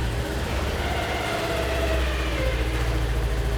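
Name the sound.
Segway Villain SX10 engine starting and idling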